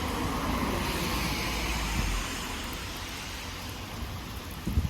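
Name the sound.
rain falling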